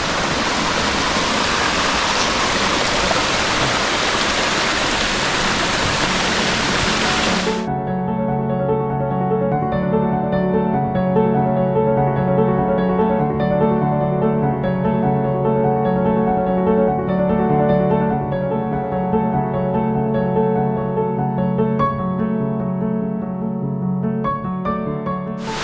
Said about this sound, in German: Froh, dass ich jetzt einen kleinen Wasserfall gefunden habe.